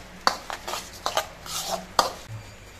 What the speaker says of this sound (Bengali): এবার সব কিছু দিয়ে চালটা মাখিয়ে নেব।